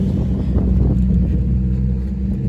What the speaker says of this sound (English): I don't like those loud cars.